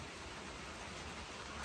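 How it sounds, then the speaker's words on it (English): Heavy rain pours down in a steady, dense broadband wash that holds unbroken across the whole stretch, with no voices over it. "Pouring. It's supposed to rain until noon."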